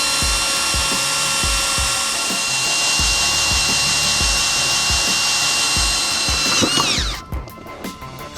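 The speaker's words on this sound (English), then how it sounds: "we're gonna drill our holes so we can mount the lights." A power drill bores holes for mounting a light bar, running with a steady whine and rhythmic ratcheting pulses, then winding down near the end.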